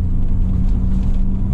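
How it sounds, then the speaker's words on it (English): Renault Clio engine droning steadily from inside the car while driving, a low rumble with a faint hiss riding on top, continuous and fairly loud throughout with no talk. "You can hear the little hiss on it, can't you?"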